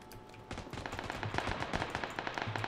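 Rapid automatic gunfire in the video game PUBG, a quick burst of repeated shots starting after a brief quiet moment, steady and fairly faint in the mix.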